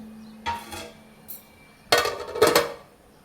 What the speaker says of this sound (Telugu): మూత అయితే పెట్టేసుకున్నాను ఇంకా